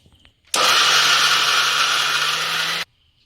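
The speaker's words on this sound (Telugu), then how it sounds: "మిక్సీ జార్లు వేసుకొని మంచిగా మినపప్పు అయితే పేస్ట్ లాగా పట్టుకోవాలి" A mixie grinds washed urad dal into a thick paste, its motor starting abruptly into a loud, steady, high whine with a low hum beneath, running about two seconds before cutting off sharply.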